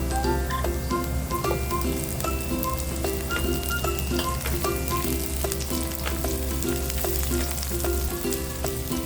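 Onion sautéing in a pan as the fat sizzles loudly and steadily, with repeated soft ticks and clinks of stirring running through the whole stretch.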